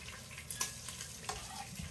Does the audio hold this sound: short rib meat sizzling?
yes